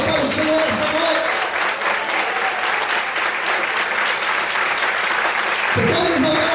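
A church congregation applauding in praise during an evening service, loud dense clapping that fills the room, with a voice calling out over it near the start and end.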